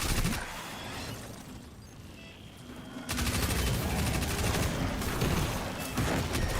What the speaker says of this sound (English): fire a bunch of SMG shots